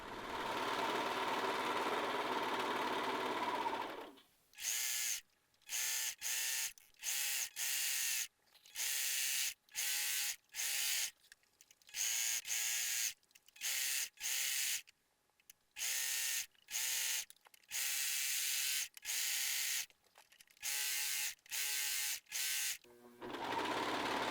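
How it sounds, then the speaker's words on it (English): A serger stitches seam allowances together on a medieval monk costume, running in repeated short bursts of rapid whirring separated by brief pauses, close and steady. "If you have a serger, the easiest way to manage these seam allowances is to serge them together"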